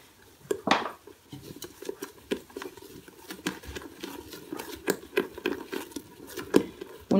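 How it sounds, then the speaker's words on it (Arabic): A whisk beats cake batter in a bowl, with pomegranate yogurt, flour and ground toasted almonds, giving a quick irregular patter of close wet clicks and taps against the bowl, heard alone. "ونخلطو بالفوي"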